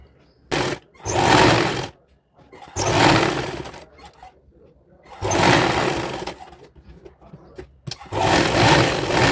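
A sewing machine stitches a coat-collar cord-set sleeve in several close, steady bursts of whirring separated by short pauses.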